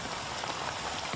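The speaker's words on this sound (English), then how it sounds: "it's quite nice to hear the rain on a tent" Rain pattering steadily on a tent, a dense hiss of drops striking the fabric at close range, constant and unbroken with no voices.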